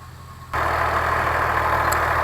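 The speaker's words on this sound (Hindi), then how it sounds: "ये पहुंच गया जी ज़मीन की दूसरी साइड पे ट्रैक्टर।" A tractor works a maize field during harvesting. After a quieter start, its engine kicks in loud and close, holding a steady, heavy drone.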